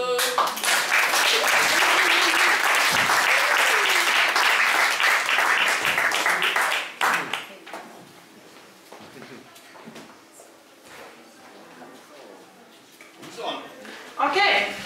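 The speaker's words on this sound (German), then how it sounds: "Einmal Applaus, bitte." Audience applause for a magician's stage act, a loud dense burst of clapping for about seven seconds that then drops to scattered claps and faint room noise, with a brief swell near the end.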